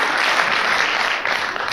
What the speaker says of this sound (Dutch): Applaus voor Wim de Schrijver,